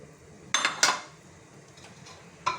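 Carrots dropped into a pot of simmering meat for Moroccan couscous, with a few sharp metallic clinks and clatters of pot and utensils against a quiet kitchen background.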